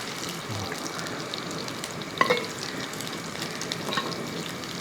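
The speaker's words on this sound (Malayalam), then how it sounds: "ചെറിയ തീയിൽ ഇത് ഫ്രൈ ആക്കി എടുത്താൽ മാത്രം മതി" Squid frying in a pan over a low flame, a steady gentle sizzle and bubbling hiss with a couple of brief metallic clinks from a spatula, fairly quiet and close.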